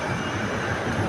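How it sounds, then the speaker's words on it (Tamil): Small children's amusement ride train rolling along, a steady rumbling mechanical run with faint rail clatter, continuous and fairly close, no talk. "இது ட்ரெயின் எப்படி இருக்கு பாருங்கள்"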